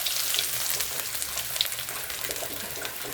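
Crushed garlic, ginger and green chili frying in hot oil with mustard seeds, a close, bright steady sizzle with small pops, no voices.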